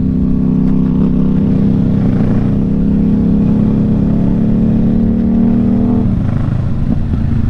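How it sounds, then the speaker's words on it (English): A sport motorcycle engine drones loud and close inside a tunnel, a sustained heavy roar with a slight shift in pitch near the end. "The tunnel, bro. You gotta rev it, man. You gotta rev it."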